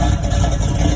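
A Toyota V8-swapped car engine with a 2-into-1 exhaust idles steadily at close range, a dense continuous low rumble with no change in pace.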